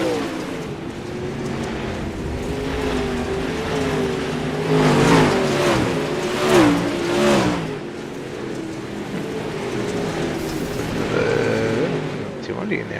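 Pro late model race car engines droning and revving during an iRacing warm-up session, with rising and falling engine tones held steady throughout, while a commentator talks over the continuous engine noise.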